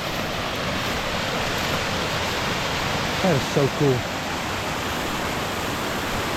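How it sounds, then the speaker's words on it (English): Rushing waterfall on Little Cow Creek, a steady broadband roar of falling water filling the whole clip, with a person briefly speaking over it partway through. "this whole area has so many freaking waterfalls."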